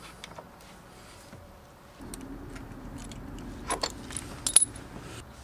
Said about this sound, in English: Step one, remove the brake caliper.